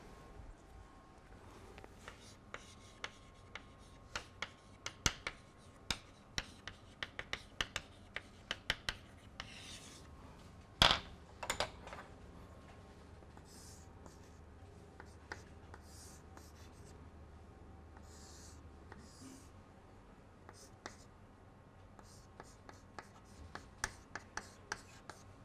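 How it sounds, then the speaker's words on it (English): An equation written by hand, faint scratchy strokes and light taps scattered through a quiet room with a steady low hum, one louder rub near the middle. "I will write this in an equation form."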